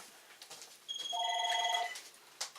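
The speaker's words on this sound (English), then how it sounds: "But there's a house phone ringing." A house phone rings once with a bright electronic trill lasting about a second, moderately close in a quiet room with faint background noise.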